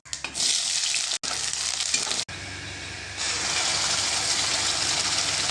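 Chopped onions hitting hot oil with bay leaf, whole cumin and dried red chillies, a loud steady frying hiss that briefly cuts out twice, then swells into a denser, continuous sizzle.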